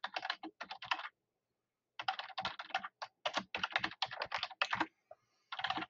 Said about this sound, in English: you type in your username and password and sign in